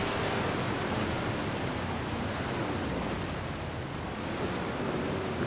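Koenigsegg car driving through shallow water in the video game Forza Horizon 4, a steady loud broadband splashing wash like surf that continues without a break, with no talk.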